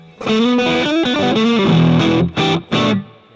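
A Fender Stratocaster electric guitar plays through a Super Reverb cabinet amp simulation with a loud, overdriven bluesy tone. Sustained bent notes are followed by two short separate chord stabs.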